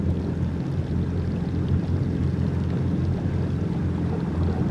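A Yamaha outboard boat with Thrust Vector passes at forward idle in a light crosswind, giving a steady low droning hum that holds constant and close throughout, with some wind noise and no talk.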